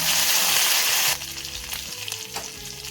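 Curry leaves hitting hot oil for a green gram curry give a loud, bright sizzle that quickly settles into a softer, crackling fry, with no talking.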